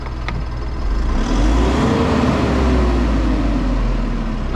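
A waste-hauling truck's engine idling high and steady, revs held up by a faulty accelerator that isn't returning, a continuous mid-pitched drone with a slight rise in pitch partway through, close and loud.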